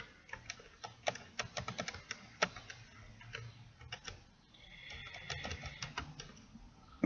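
Fingers type an email address on a computer keyboard, the keys clicking close and fairly soft in uneven bursts with short pauses throughout and no voice over them.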